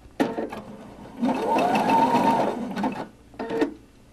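A sewing machine stitches a bar tack over cord, a short burst followed by a steady run of rapid stitching about a second and a half long and another brief burst, close and clear.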